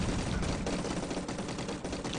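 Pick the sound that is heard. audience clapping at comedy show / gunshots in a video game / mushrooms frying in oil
gunshots in a video game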